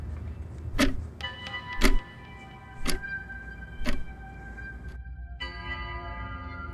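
A clock ticks four times, about a second apart, each tick sharp and loud against a faint ringing hum.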